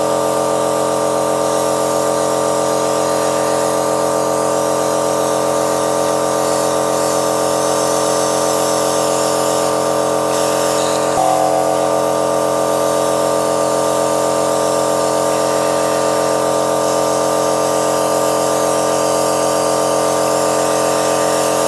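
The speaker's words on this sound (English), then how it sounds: "So that's kind of just given like an even amount of spray around" A continuous, steady hiss of an airbrush spraying with a compressor hum underneath, unchanging apart from one brief blip midway.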